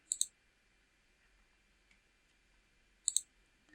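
Two crisp computer mouse clicks, each a quick double tick, close to the microphone. About three seconds of near silence separate them.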